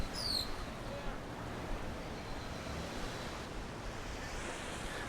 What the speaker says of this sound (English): this is Akumal Beach in the early morning